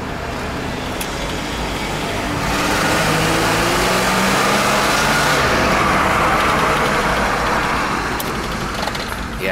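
Warmed-up Pontiac LeMans Safari station wagon engine running on the road, a steady rumbling drone that swells louder in the middle as the car accelerates, then eases back.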